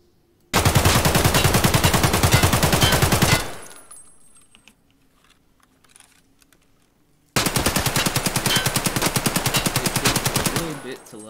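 AK-74 rifle fire in the shooter game Escape from Tarkov, two long full-auto bursts of rapid, loud, close shots separated by a few seconds of near silence.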